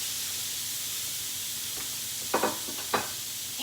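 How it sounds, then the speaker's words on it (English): Chicken sizzling on a hot grill, a faint continuous hiss with a few soft knocks and clatters near the end. "And I'm going to always want to hear that sizzle."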